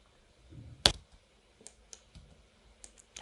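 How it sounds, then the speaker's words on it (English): Computer keyboard keys pressed while editing in Adobe Premiere Pro: one sharp, close click, then a few fainter, sparse taps in a quiet room. "Now I'm gonna zoom out using Q button on my keyboard, move the playhead to the very beginning, and press spacebar"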